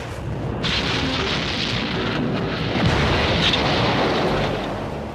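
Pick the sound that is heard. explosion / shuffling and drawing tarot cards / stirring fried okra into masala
explosion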